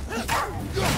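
A dog in the video game God of War gives a brief yelping bark, a single quick burst lasting about a second within the game's sound.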